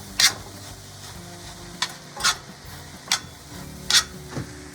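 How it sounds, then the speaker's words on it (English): Tofu and onions in a pan for brown-rice fried rice, stirred in several separate scraping strokes over a faint steady sizzle, with nobody talking. "We are going to add back the tofu with the onions."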